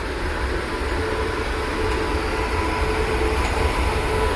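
The Pune–Howrah Azad Hind Express, hauled by a WAP 7 electric locomotive, arrives at platform 1 of Champa Junction. A continuous, fairly loud rumble of wheels and rolling stock runs steadily throughout with no voices.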